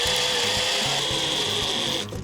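A steady, loud grinding whine as a hot drill bit bores through into wood, continuous with a faint rhythmic chatter underneath, easing off at the end without any talk.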